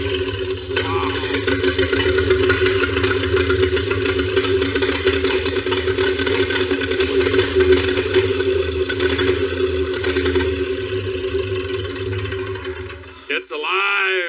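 A 1971 Buick Riviera boat-tail V8 runs steadily at a rough, loud idle, close by with a constant rumbling drone, then briefly dips and catches near the end.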